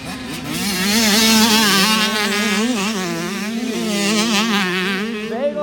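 Motocross bikes race flat out at the Travis Pastrana Pro Challenge, their engines wailing loud and close as they rev, rise and fall in overlapping waves throughout.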